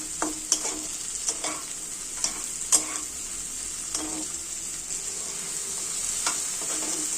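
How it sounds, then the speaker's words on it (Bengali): Chopped tomato fries with onion, ginger and garlic in a pan, giving a continuous close sizzle broken by regular scraping strokes of a spatula stirring the mixture. "এবার এর মধ্যে দিয়ে দেবো টমেটো কুচিটা, সেটাও ভালো করে ভাজবো।"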